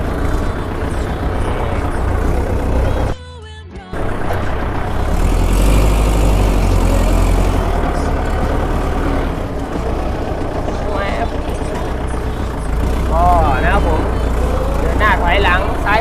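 A second-hand Kubota L5018 tractor engine runs steadily at a dealer's yard, a loud continuous rumble with a brief drop in the middle, while people talk nearby.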